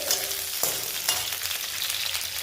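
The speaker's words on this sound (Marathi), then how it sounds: "चला कांदा पण मी व्यवस्थित परतून घेते" Chopped onions sizzle and fry in oil in a pan for bhindi do pyaza, a steady close hiss with a few stirring scrapes and no talk.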